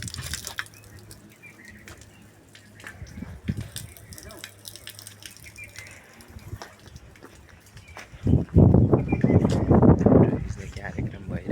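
Cold water runs from a stone spout at a park in Dharan, a soft trickle under ongoing talk and birdsong that swells into a louder, splashing gush near the end.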